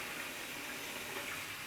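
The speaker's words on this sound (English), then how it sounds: "under the running water" A steady stream of tap water runs in a sink while a makeup brush is rinsed under it, a continuous even hiss and splash, fairly faint and close, with no voices.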